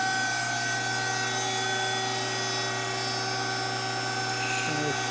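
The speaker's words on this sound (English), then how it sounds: "Let it warm up some. And turn on the hydraulic." A hydraulic system runs steadily after being switched on, producing a loud constant hum with a steady whine layered over it.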